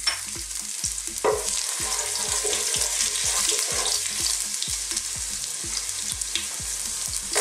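Ginger sautéing in hot oil in a wok, a close steady sizzle with rhythmic spatula scrapes and knocks repeating roughly every half second throughout.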